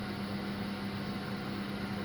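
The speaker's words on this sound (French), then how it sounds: "vous allez entendre un peu de bruit. C'est ma machine à laver." A washing machine runs in a home kitchen in Casablanca, a steady low hum with a faint whir held evenly throughout, quiet and unbroken.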